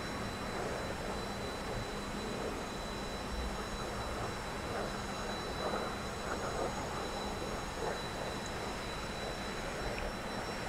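Jet engine drone of a T-45 trainer in the DCS flight simulator game during formation flying, a steady broadband roar with faint high tones running continuously without talk.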